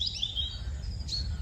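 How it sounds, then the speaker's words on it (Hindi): Small birds chirp and tweet in a village setting in the morning, with high bright calls over a low background rumble. "गांव में सुबह का नज़ारा बहुत प्यारा होता था। पक्षियों की चहचहाहट,"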